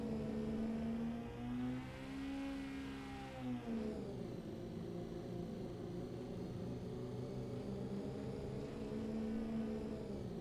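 A car engine drones steadily in Microsoft Flight Simulator 2024 as the vehicle pulls into a parking spot, its pitch falling midway as it slows, then settling into a low idle.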